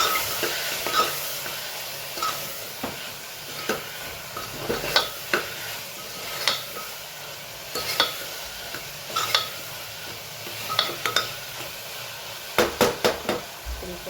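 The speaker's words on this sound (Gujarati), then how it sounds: "મીઠું, ધાણા મિક્સ કરી દઈએ." Vegetables being stirred with salt and coriander in a pan, a spoon scraping and tapping repeatedly against the metal over a soft background sizzle, with a quick run of clanks near the end.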